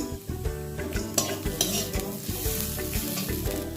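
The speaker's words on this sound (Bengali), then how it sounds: "এখানে পেঁয়াজটা আমি খুব একটা বেশি ভাজবো না, এর মধ্যে আমি আদা বাটা দিয়ে দেবো, কাঁচা লঙ্কা কুচি দেব।" Chopped onion sizzles in a frying pan with ginger paste and green chilli, a steady close crackle broken by repeated scraping and stirring strokes of a spatula against the pan.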